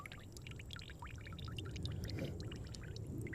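A SIG P320 pistol, fouled with mud after a soft primer strike, is dunked and swished in water. Bubbling, sloshing splashes continue steadily and fairly close for a few seconds.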